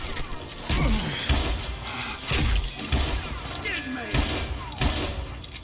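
Gunfire in the Western shooter game Call of Juarez Gunslinger, with repeated sharp shots and mechanical reload clicks over a busy game soundscape while someone talks.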